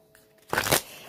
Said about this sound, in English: let me shuffle a couple of times here